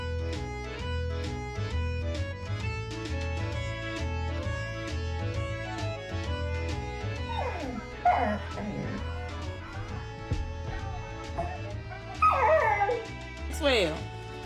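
A dog yips, whimpers and howls in a home kitchen, its whiny cries rising in bursts over a steady music track, close and fairly loud.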